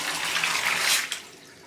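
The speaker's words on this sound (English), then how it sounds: "If you turn the tap up, it does the shower. But if you push it down, the sink goes." Water gushing from a combined shower and sink tap in a Japanese bathroom, a close bright rushing hiss that swells briefly, then drops off as the flow is cut.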